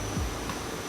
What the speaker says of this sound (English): So this is drying it like a big hair dryer, drying the film.